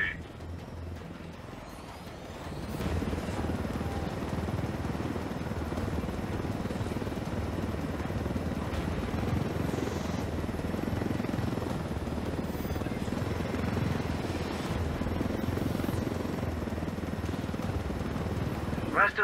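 A helicopter in the video game Ghost Recon Wildlands flies with a steady, loud rotor and engine drone that starts a few seconds in and holds throughout, with game dialogue under it.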